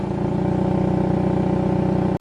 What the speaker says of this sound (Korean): 배기 사운드가 상당히 커집니다